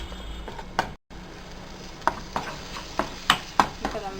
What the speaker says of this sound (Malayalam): എണ്ണ ഒഴിച്ചിട്ട് നമ്മൾ അരച്ച് വെച്ചിരിക്കുന്ന ഉള്ളി ചമ്മന്തി അതിലേക്ക് ഇട്ട് നന്നായിട്ട് വഴറ്റിയെടുക്കണം.